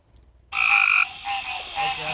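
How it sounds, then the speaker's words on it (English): Frogs croak at night in the grassy waters of a family ranch during mating season, a loud close chorus of rasping calls starting abruptly and continuing with steady overlapping croaks. "Every now and then you'll hear a deeper croak."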